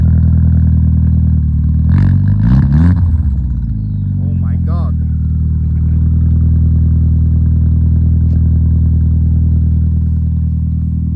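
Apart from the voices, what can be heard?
Seat Leon 4 engine revving while snow drifting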